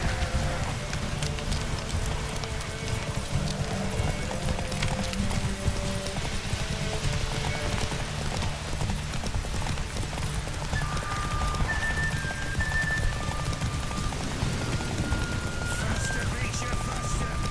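Roach the horse gallops in The Witcher 3, with a steady rapid clip-clop of hooves under tonal game music and a voice speaking over it.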